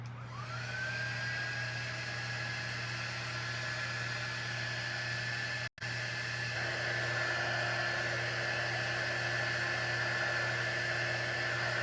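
A dryer blows steadily while drying paste on a coffee bar sign, a continuous close whooshing hum with a rising whine at the start and a brief cutout midway.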